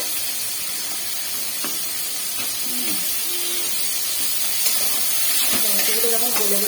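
Tomatoes, asafoetida and spices frying in a pan for a light rohu fish curry, a steady hiss and sizzle throughout with small clinks and scrapes, growing slightly louder toward the end.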